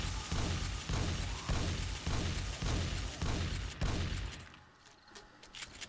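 Automatic turrets in the Darkness Falls survival game, during a blood moon horde, fire in steady repeated bursts of loud rattling shots for about four seconds, then cut out, leaving quieter scattered noise.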